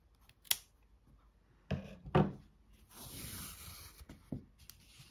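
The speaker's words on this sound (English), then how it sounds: "So you just want to cut your yarn, leaving enough of a tail for sewing." Scissors snip through crochet yarn at close range, a couple of crisp cuts followed by brief rustling and handling of the piece in a quiet room.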